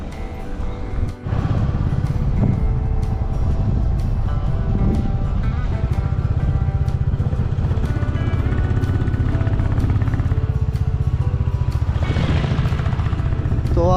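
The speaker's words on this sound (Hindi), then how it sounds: "तो आपने जो अभी देखा है वो बर्मा बाइक है" A Burma-made motorcycle manufactured in Myanmar drones past at close range near Longwa, Nagaland, its engine loud and steady for most of the stretch with a brief dip early on.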